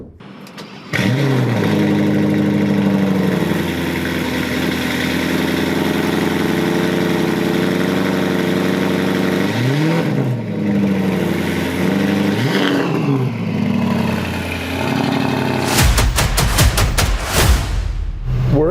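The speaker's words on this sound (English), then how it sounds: "Let's drive the Panamera first today" A 2020 Porsche Panamera GTS engine cranks and fires, settles into a loud, rich idle, then takes several sharp revs that swell and fall back, ending in a burst of rapid crackling revs near the close.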